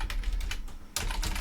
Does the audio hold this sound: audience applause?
no